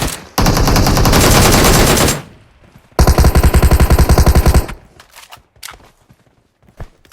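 Rapid automatic gunfire from a battle royale shooter game, two loud sustained bursts of closely spaced shots, followed by scattered fainter shots and clicks.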